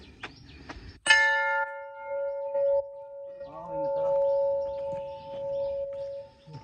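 A single bright metal temple bell is struck once and rings out with a long, sustained tone that slowly fades, with faint voices and movement around it.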